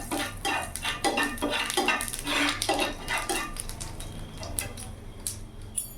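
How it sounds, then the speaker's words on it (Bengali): Nigella seeds temper in a little hot oil in a pan, heard as close clinks and scraping of utensil against the pan with a light sizzle underneath, repeated in quick irregular strokes. "এই তেলের মধ্যে আমি এখানে ফোড়নে দিয়ে দিলাম কালো জিরে"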